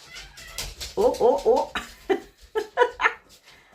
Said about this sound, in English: That is the cat having a go at the dogs now.